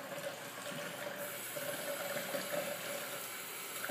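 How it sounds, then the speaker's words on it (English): Tap water runs steadily through a length of soaked dialysis tubing at a sink, a constant faint rushing flow with no talking. "And then you can get the water flowing through it."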